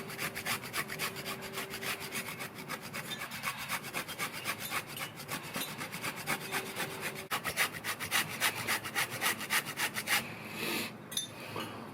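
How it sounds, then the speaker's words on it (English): A 50 gram block of palm sugar is grated into a marinade for Vietnamese grilled lemongrass pork belly, giving a fast, even rasping scrape that repeats steadily and close up, with no speech. "I've got here a 50 gram block of palm sugar, and I'm going to grate all of that into my marinade"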